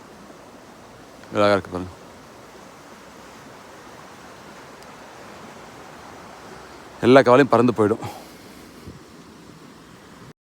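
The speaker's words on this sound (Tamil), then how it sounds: "இந்த ஓடை வந்து இங்கே போகுது பாருங்கள்." A stream runs past beside a road, a steady broadband rush of flowing water throughout, with someone speaking briefly near the start and again later over it.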